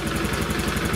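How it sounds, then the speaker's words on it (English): A Honda Vision 110 scooter engine under repair runs steadily, a loud close mid-pitched idle with an even pulsing beat and no voices over it. "ignition back on. Start the bike."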